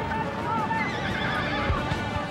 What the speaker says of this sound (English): Those terrible grey horses, how they fight